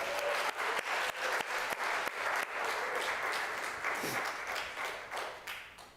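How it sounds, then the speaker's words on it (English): Audience applause at a board installation ceremony, a burst of steady clapping from a crowd that holds for several seconds before tapering off near the end. "Let's applause."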